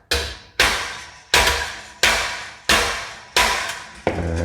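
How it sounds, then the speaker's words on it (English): Light hammer taps seat a snug part during repair of an older clothes dryer: six sharp, fairly loud strikes at a steady pace, each ringing briefly before fading, with no talking. "I'm just going to see if I can maybe just give it a little tap."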